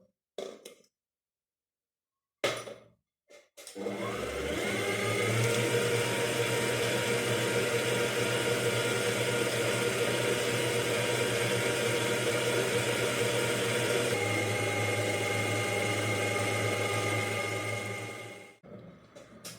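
An electric mixer whips eggs for marble cake batter, a steady, loud motor whir that starts after a few clattering knocks and runs continuously for about fifteen seconds before stopping.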